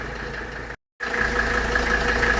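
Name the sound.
1983 Mercedes 300D engine idling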